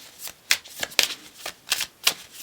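A deck of oracle cards is shuffled up close: a quick series of crisp riffling slaps and flutters, about six bursts in irregular rhythm, with no talk.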